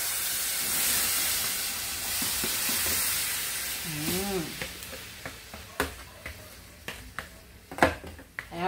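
Sarapatel beef hits hot oil in a pan and sizzles in a hissing rush, with utensil scrapes and sharp clinks as it is stirred. The frying grows more crackly toward the end.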